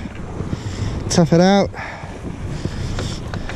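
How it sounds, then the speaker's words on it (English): Strong wind buffets the microphone while fishing from a kayak on the water, a steady low rumbling gust running throughout, with someone speaking briefly over it. "It's windy today, folks. Really windy."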